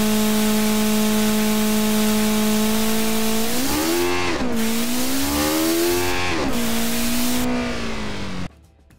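Simulated kei car engine in the Automation game holds steady revs, then climbs through two rapid upshifts with pitch drops between them, loud and alone before cutting off at the end.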